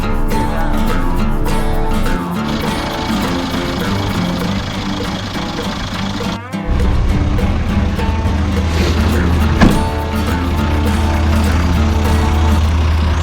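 A 1987 Toyota HJ60 with a diesel engine runs steadily with a deep, constant rumble, close and loud. Partway through there is a sudden shift in the drone and a brief clunk, as if revving or shifting.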